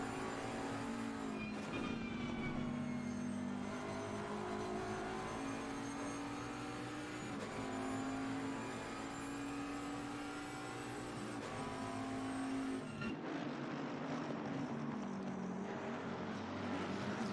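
GT race car engines from Assetto Corsa Competizione at Zolder, including a Bentley and a McLaren, drone and rev steadily with rising and falling pitch through gear changes, then drop and build again after a shift near the end.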